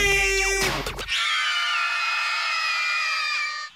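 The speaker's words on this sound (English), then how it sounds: "Somebody scream." A children's dance show audience screams in a sustained, loud, high-pitched group yell that carries on for several seconds after a brief burst of music.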